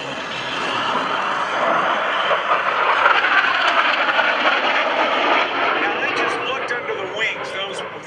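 AV-8B Harrier II jet making a high-speed pass at a 2012 military air show open house, a loud sustained roaring rush that builds and fades, with a voice over loudspeaker talking above it.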